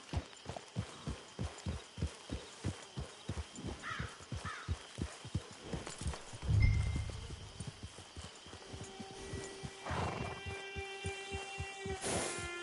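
Horse hooves clip-clop in a steady, close trot in the Red Dead Redemption 2 video game, a long rhythmic run of hoofbeats that slows and breaks off midway amid a thump and faint crow calls, then resumes more faintly.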